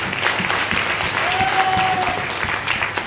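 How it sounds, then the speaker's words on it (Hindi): Sustained applause from a corporate event audience, many hands clapping steadily and fairly close for about three seconds, a brief whistle-like tone rising briefly through the middle. "अगर मैं तालियां बजानी है तो अच्छे से बजाइए"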